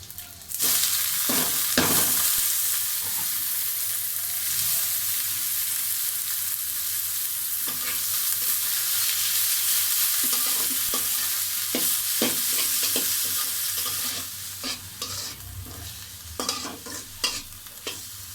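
Leafy greens stir-fried in a pan with fried onions and whole cumin seeds, a steady loud sizzle with repeated scraping stirs throughout, no voices.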